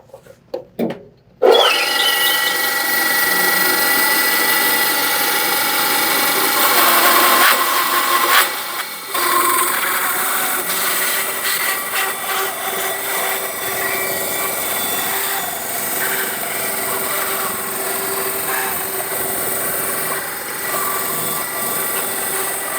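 A saw blade cuts a thin wood veneer for a skateboard, fed with a platen and push stick: a loud, close, sustained whine with a rasping cutting tone, running about twenty seconds after a brief start-up.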